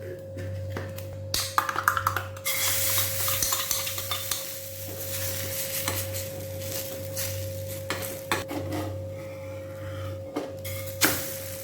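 An omelette egg mixture cooks in a few drops of oil. Spoon clinks and scraping mixing sounds come close and in irregular bursts over a low, steady background hum and a soft sizzle, with no speech.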